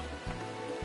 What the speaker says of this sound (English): is it starting to rain in Gridania?